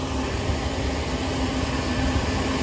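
A big farm tractor engine idles loudly and steadily in the field during the first day of corn picking, with a constant drone and a noisy high hum and no talking.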